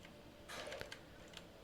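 Keystrokes on a computer keyboard while a YAML config file is written, a quiet scattered cluster of light clicks with a few sharper taps, no voices.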